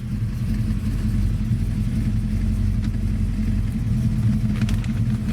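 A 1936 Ford Cabriolet resto-rod hot rod with a 351 Windsor V8 and AOD transmission idles loudly and steadily close by, a deep, even engine rumble with no talking.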